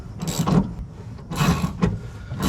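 A coil spring compressor spins and tightens down on a car coil spring, giving a clicking, ratcheting mechanical whir that comes in two or three uneven bursts with short quieter gaps between them.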